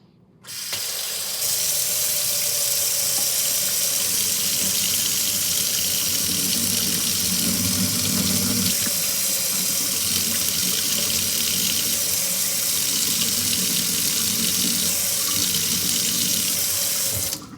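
Water runs steadily off a spoon in a continuous, close splashing stream, like a tap filling a sink, steady and loud for the full length with no voices.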